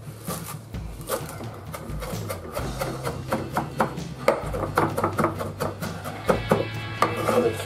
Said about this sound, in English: I'm going to chop this all up grossly.